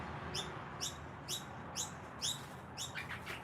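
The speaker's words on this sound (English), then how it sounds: "Bird, leave the Butchie alone." A bird chirps in short, regular repeated calls, about two per second, over a steady background hiss indoors.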